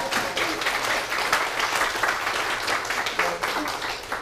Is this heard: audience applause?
yes